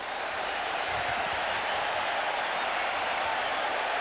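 A steady, dense roar from a packed stadium crowd at an NFL game between the Eagles and the Packers, loud and unbroken throughout with no distinct voices standing out.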